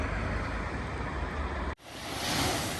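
Road traffic near Saint-Tropez on the French coast, a steady, fairly loud rush of passing cars that cuts out abruptly partway through, then resumes as a softer hiss.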